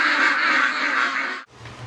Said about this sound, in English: Good morning, ducks!